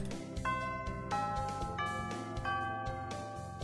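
Chiming school bell in the video game Hatoful Boyfriend, a sequence of bright, ringing tones in a repeating melodic pattern over game music, fairly quiet and alone without talk.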